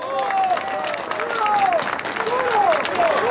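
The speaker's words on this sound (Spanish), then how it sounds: "El aplauso de unidad, compañeros" Applause at an electricians' union march and rally, a continuous crowd clapping with voices and shouts rising over it throughout.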